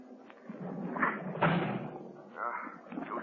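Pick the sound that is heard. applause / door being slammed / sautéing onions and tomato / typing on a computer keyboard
door being slammed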